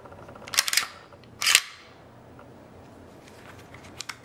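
An FN FNX-45 Tactical pistol clicks through its double-action trigger pull twice, each pull ending in a crisp, close metallic snap of the hammer, followed later by a few faint handling clicks.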